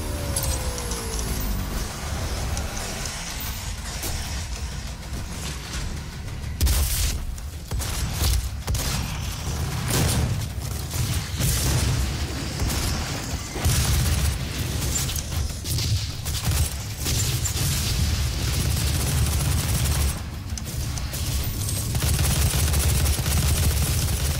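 Explosions and rapid gunfire from the video game DOOM (2016), loud dense bursts and booming blasts layered continuously with mechanical clatter throughout, no talk.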